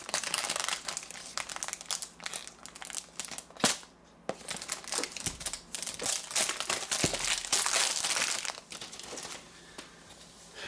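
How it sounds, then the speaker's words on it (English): Plastic packaging from a tempered glass screen protector for an iPhone XS Max is unwrapped up close, giving repeated crisp crinkling and crackling with short pauses and a few sharp tearing bursts. "So let's unwrap this."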